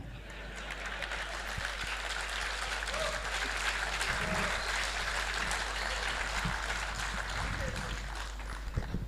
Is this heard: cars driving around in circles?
no